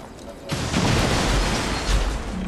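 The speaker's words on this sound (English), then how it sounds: "Movement request confirmed. Rocket launcher." A rocket launcher explosion in XCOM 2 erupts after a brief lull, a loud, sustained rumbling boom with crackling debris that rolls on for about two seconds.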